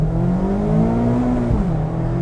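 A Mazda MX5's light-flywheel engine revs hard on a British B-road, a close, steady buzzing drone whose pitch climbs smoothly and then drops back as the revs fall.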